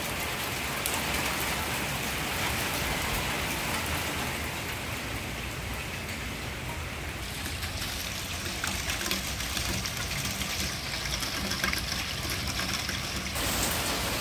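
Steady rain pours down and patters on a surface, a constant dense hiss with no voices.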